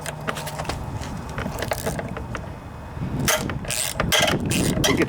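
A ratchet turns an 8 mm socket on the cover bolt of a Honda lawnmower engine, giving quick runs of close mechanical clicking with short pauses and a few sharper clacks.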